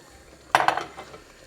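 A spoon scrapes and clinks in a pan of chicken and beans with a splash of boiling water, a quick cluster of three or four knocks and a brief stir, close and alone in a quiet room.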